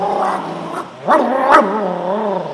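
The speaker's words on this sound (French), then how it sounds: "ce n'est pas l'anxiété, ce sont des aboiements" A dog barks a few times in short, yappy bursts, fairly close, with whiny tonal edges between barks and no voices.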